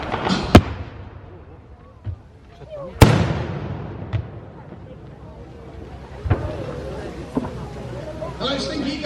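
Blasts, shots and booming explosions at a wartime battle re-enactment display, several sharp loud bangs spread out with crackling gunfire between them, while voices talk over radio throughout.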